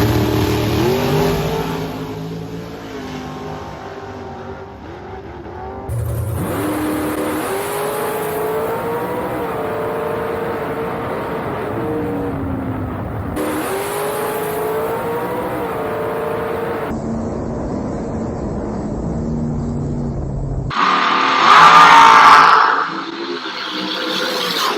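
Drag race cars launch and scream down the track, engines revving hard through gear changes with loud, rising passes broken by sudden cuts between runs.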